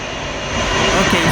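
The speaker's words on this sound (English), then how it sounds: "Air China coming in." An Air China cargo plane coming in to land, heard as a steady, loud aircraft engine roar that builds slightly, with broad rushing noise near an airfield.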